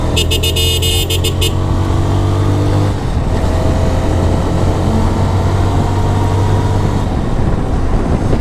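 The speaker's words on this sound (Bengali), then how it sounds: "বাইকটা অনেকদিন পর এই যে এতগুলো স্পিডে উঠাইলাম" A GPX Demon Rider motorcycle accelerates hard along an empty rural road in the early morning. Its loud, steady engine drone runs throughout, with a brief horn toot near the start.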